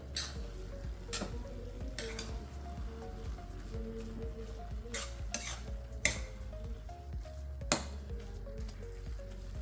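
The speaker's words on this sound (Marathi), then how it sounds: "पूर्ण हे पेढे आपण मिक्स करून घेणार आहे" Pedhe being mixed into gajar halwa in a pan make soft, close scraping and stirring sounds, with a few sharper clinks of a utensil against the pan over a low steady hum.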